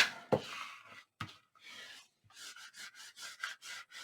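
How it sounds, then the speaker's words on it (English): Paper being burnished with a tool while assembling a 10x10 album, giving a series of close, dry rubbing strokes in a steady rhythm after a couple of sharp taps near the start, with no voices. "so then you burnish this so that it peels off easier."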